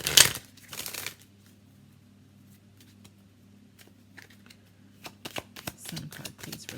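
Romance Angels oracle cards riffled and shuffled in two quick bursts at the start, followed by a quiet stretch of faint handling and low room hum, with a few more soft card flicks and rustles near the end.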